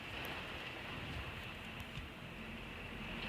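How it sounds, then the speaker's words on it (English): Steady rain with wind outside on a stormy winter day, a faint continuous hiss of falling drops with no talking. "The rain and the wind."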